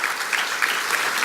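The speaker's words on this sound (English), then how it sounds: "please give them a round of applause" Brief burst of audience applause at an opening-remarks event, a dense steady patter of many hands clapping at moderate volume.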